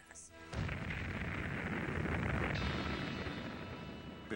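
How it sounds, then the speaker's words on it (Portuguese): Deep rumbling boom from a military aircraft passing over the Nevada desert, a sudden onset followed by a long, broad roar that swells and slowly fades, loud and distant. "São explosões sônicas."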